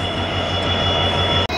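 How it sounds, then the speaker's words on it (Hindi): A Kashipur–Bareilly City DEMU passenger train pulls into Dohna railway halt with a loud, steady rumble and a sustained high wheel squeal close by, ending in a sudden brief cut. "सामने से ट्रेन आ गई है, डेमो है ये, काशीपुर जाती है"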